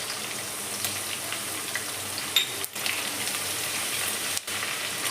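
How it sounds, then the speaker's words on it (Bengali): Crushed garlic frying in hot oil with panch phoron, a soft, steady crackling sizzle with faint spatters and a couple of brief pauses, no talking. "রসুনটা আমার হালকা ভাজা হয়ে গেছে"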